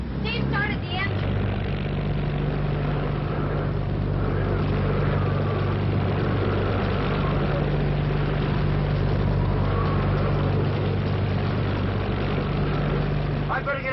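Boat engine running during a hurricane, a low steady idling rumble throughout with wind-like noise, and people talking over it.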